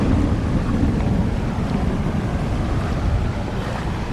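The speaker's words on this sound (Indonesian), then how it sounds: "Dan ini banjirnya ini cukup deras sekali." Floodwater rushing through a street in a residential compound in Makkah during heavy rain, a loud continuous broadband roar and wash filling the whole clip with no voices.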